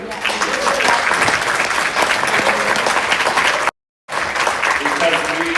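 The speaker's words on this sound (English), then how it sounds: "I would like an applause" Audience applauding the city's police and fire departments at a public gathering: dense, steady clapping and crowd noise throughout, with a brief cut to silence near the end before the applause resumes.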